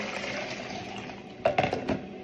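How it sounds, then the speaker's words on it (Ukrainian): Water poured into a container of young potatoes and salt, a soft running pour under a faint background hum, then a few louder splashing gushes near the end. "і заливаємо водою"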